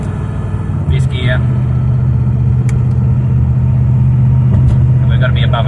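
A Holden HSV car with a 6L80 automatic gearbox drives along with a steady low engine and road rumble, shifting through manual gears, while someone talks over the drone.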